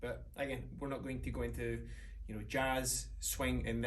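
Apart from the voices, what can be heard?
No distinct noise like a dog, phone or traffic.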